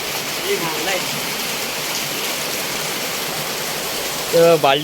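Heavy monsoon rain pours steadily in the Konkan countryside, a loud, dense, unbroken wash of falling water that holds evenly throughout, with a brief louder knock near the end.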